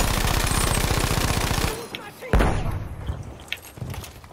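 An M1922 machine gun fires a fast, loud, sustained burst in a video game for nearly two seconds, then cuts off, leaving quieter game noise with a few scattered sharp hits.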